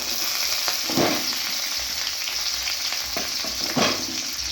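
Dried red chillies and curry leaves frying in hot oil alongside ginger, a dense, close, steady sizzle with a few louder bursts of spatter and stirring.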